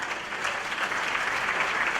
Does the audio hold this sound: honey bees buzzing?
no